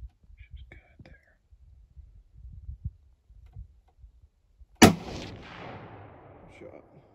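A single loud rifle shot cracks out while deer hunting, followed by a long echoing decay, after several seconds of hushed whispering from nearby hunters.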